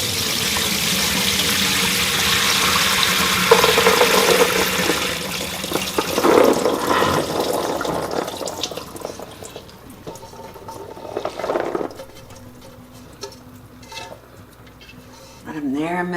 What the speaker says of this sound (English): drain our beans